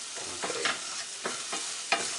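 Stirring a flour roux in a pan, a utensil scraping and dragging through thickening paste in soft repeated strokes over a faint steady sizzle, with no talking.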